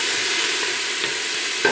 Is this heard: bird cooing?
no